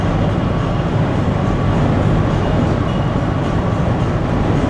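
A CN freight train rumbles past close by at about 110 km/h, a loud continuous roar of wheels and rail noise with no voices.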